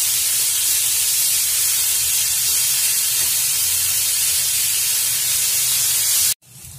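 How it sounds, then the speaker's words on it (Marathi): Sliced onions fry in hot oil until golden brown, a loud steady sizzling hiss that runs unbroken before cutting off abruptly near the end. "आपण आता हे छान असे कांदे एकदम गोल्डन ब्राऊन होईपर्यंत आपण याला तेलात छान असं परतून घेऊयात"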